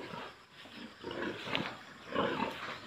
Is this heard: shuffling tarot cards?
no